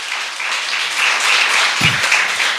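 A church congregation claps steadily and fairly loudly during a worship service, dense even applause with a few sharper low thumps near the end.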